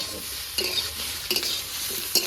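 Ginger frying with cumin and coriander in a pan for a vegetarian jackfruit curry, a constant loud sizzle broken by several sharp scraping stirs of a spatula, with no one speaking.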